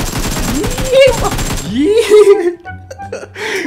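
Rapid gunfire bursts from the PUBG Mobile battle game ring out loud and close, mixed with excited voices and laughter that rise and fall over the shots.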